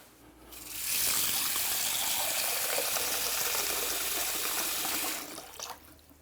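Cold tap water gushes steadily into a cooking pot of basmati rice, a loud continuous rushing pour that starts abruptly, holds for about four seconds, then cuts off, with no talking.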